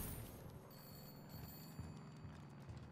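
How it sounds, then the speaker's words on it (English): A telephone ringing inside the video game Far Cry 5 at an outpost, a faint repeated electronic ring sitting under low rumbling game ambience. "Why is there a phone ringing?"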